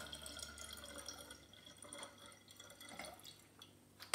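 Homemade plum wine poured gently back into a glass demijohn, a steady trickling and dripping of liquid that fades slightly toward the end, heard up close with no talking.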